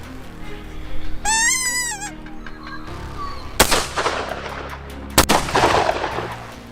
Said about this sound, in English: follow the bullet as it leaves the barrel